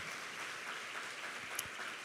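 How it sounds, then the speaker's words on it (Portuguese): A church congregation claps steadily in praise, an even wash of applause throughout the short stretch, moderately distant, with no clear speech over it. "Pode aplaudir ao Senhor"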